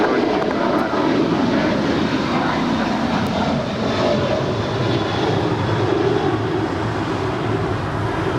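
Jet airplane at Los Angeles LAX airport roars loudly and steadily, a broad continuous engine rumble and hiss lasting throughout, heard close with no clear talk.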